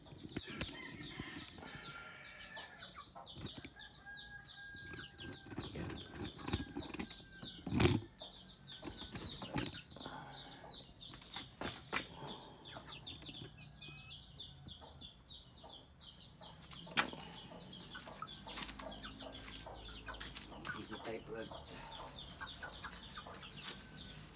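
Native chickens cluck and squawk close by, with bursts of wing flapping and scattered rustling throughout.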